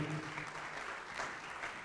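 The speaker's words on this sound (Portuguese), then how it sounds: "Vamos aplaudir mais ao nome de Jesus" Congregation applauding during a church service, a steady, fairly faint wash of many hands clapping with a faint low hum beneath.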